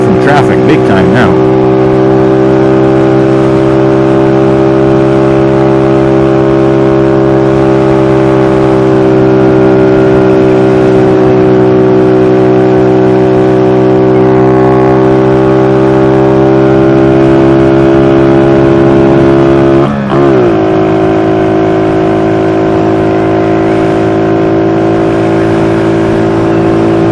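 A vehicle being ridden pulls away from traffic with a loud, sustained engine drone held close for the whole stretch, its pitch briefly dipping and resettling once near the end.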